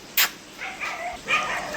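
A dog gives a sharp bark and a couple of softer whimpering yips, close by, while waiting in heavy rain to be fed roti.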